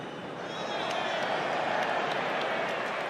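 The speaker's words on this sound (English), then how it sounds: "ironic, perhaps impolite cheers and applause" Rugby crowd at an England versus South Africa match offers cheers and applause, a broad, distant wash of clapping and voices that swells after a quiet start and holds steady throughout.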